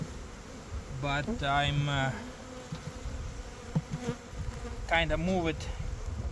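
Honey bees drone in a steady, close buzz around spring hive frames filled with syrup and pollen, while someone talks intermittently over the hum.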